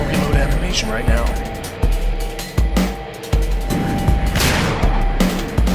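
Shotgun fire in the video game Dead State: a run of sharp, heavy booming blasts at irregular intervals, loud and close, with someone talking over them.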